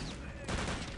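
Gunfire in Return to Castle Wolfenstein multiplayer, a rapid, rattling burst of shots with a strong booming hit midway, loud and close, with faint game ambience underneath.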